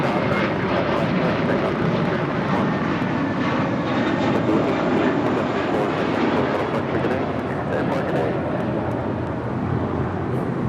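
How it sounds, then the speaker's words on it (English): A JetBlue Airbus A321 departs Los Angeles International Airport bound for Newark, its jet engines a constant loud, broadband roar that holds steady throughout, heard from nearby without speech. "1874 departing to Newark on an A321."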